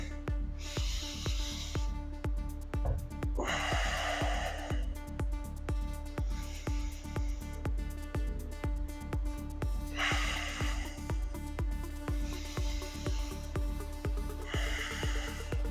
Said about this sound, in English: I really want to try to focus on that nasal breathing.